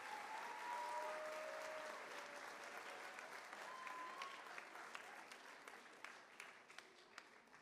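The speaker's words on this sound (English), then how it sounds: "Can we have a round of applause for Miss Triolo and Miss S." An audience at a fifth-grade moving-up ceremony applauds teachers and their class, a faint, distant wash of clapping that holds steady and slowly thins toward the end, with a few brief tonal sounds early on.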